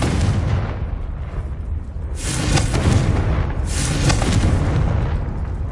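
A Confringo blasting spell goes off in Hogwarts Legacy as a loud, close explosive roar, with two rushing bursts swelling over a continuous low rumble, no voices.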